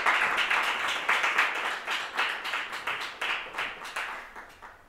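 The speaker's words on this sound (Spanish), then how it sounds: "Pido un fuerte aplauso para Teresa Álvarez." Applause from a book-launch audience for the author of a social novel, a modest crowd of fairly quiet, uneven clapping with individual claps audible, tapering off toward the end.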